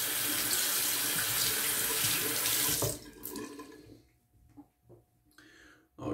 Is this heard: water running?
yes